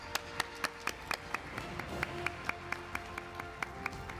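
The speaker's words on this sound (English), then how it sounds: "Round of applause for them." Sparse, evenly spaced claps ring out in a fairly quiet ceremony hall as award winners are recognized, sounding like a few people clapping rather than a full crowd.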